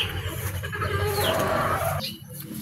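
Breeding chicken on a backyard farm clucking and murmuring close by, a short run of throaty calls over rustling farmyard background that cuts off abruptly near the end.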